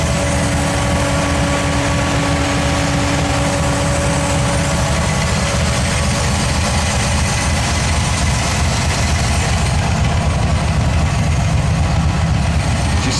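A V8 engine in a Ford Ranger truck idles steadily and evenly, a loud, close, continuous low rumble with a fan running and no talk over it.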